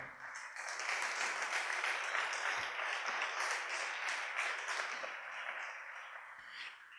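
Loud, sustained applause from a church congregation, broad and steady for the whole stretch and fading slightly toward the end, with no speech over it.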